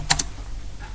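Two quick keystrokes on a computer keyboard close to the microphone, followed by quiet room hum and a faint tap.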